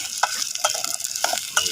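Food being stirred and mixed in a cooking pan while papaya cooks, with repeated scraping strokes of the spoon against the pan over a soft steady sizzle, close and alone.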